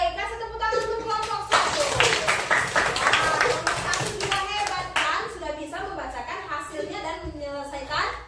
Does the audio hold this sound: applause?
yes